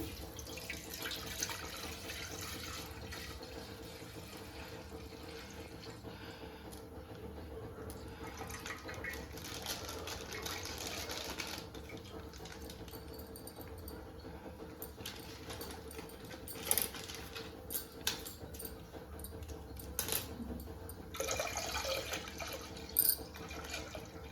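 Water runs steadily from a tap into a vessel for semiya payasam, a continuous close splashing stream with a few clinks and knocks near the end.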